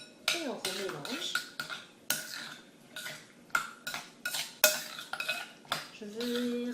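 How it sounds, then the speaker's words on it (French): Cucumber pieces get mixed into a bowl with a utensil, giving a series of close, irregular clinks and scrapes against the dish, with short quiet gaps between them. "On met dedans les morceaux de concombre. Et on remélange."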